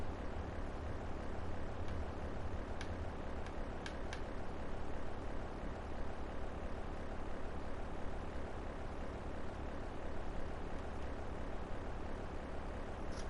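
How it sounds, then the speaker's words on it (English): A plane's propeller engines drone in GTA 3, a dense, unbroken roar that holds steady at one level from start to finish, with a few faint clicks and no talking. "All I was hearing was the motors."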